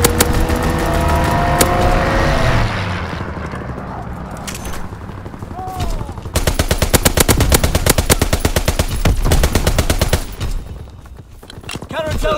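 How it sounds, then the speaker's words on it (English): Aircraft strafing-run gunfire in Call of Duty: WWII team deathmatch on the Shipment 1944 map: after a loud, noisy opening, dense rapid bursts of automatic fire hammer on for several seconds, close and loud. "Strafing run inbound."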